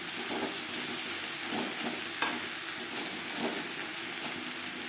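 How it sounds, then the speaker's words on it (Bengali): Raw papaya curry with roasted spices being stirred in a hot pan, a steady sizzle with soft periodic scrapes of a spatula roughly every second and one brief sharper clink, no voices. "পেঁপের সাথে বেশ ভালো করে মিক্স করে দেবো"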